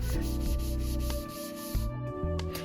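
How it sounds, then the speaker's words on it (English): Steady rasping strokes of 220 grit sandpaper rub back and forth across a wooden nightstand, close and continuous, with a faint mechanical hum underneath. "I made sure to sand it down with 220 grit"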